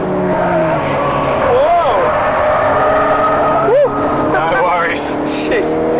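A race car corners hard on a track under left-foot braking, its engine note rising and dipping with a few sharp revving swoops, and someone talks over it throughout.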